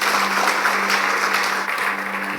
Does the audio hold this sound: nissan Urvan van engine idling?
no